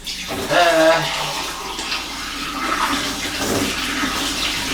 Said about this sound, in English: just wash this out a second